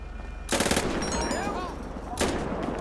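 Bursts of gunfire in GTA 5, a sharp volley crashing in near the start and another shorter burst later, loud and close, with a voice faint underneath.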